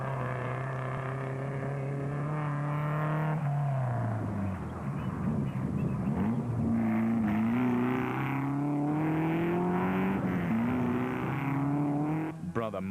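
A Castrol Toyota Hilux 2.7 rally truck races through a rally stage, its engine rising and falling as it accelerates and shifts, loud and continuous with commentary running over it.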